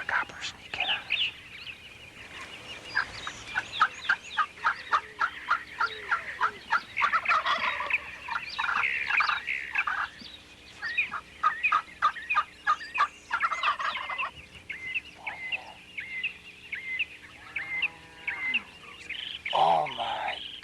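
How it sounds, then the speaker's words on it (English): Several wild turkey gobblers gobble repeatedly in rapid rattling bursts amid a flock of hens outdoors, some calls close and loud, others further off, with soft whispered talk between volleys. "There's gotta be 20 hens. And there's seven gobblers."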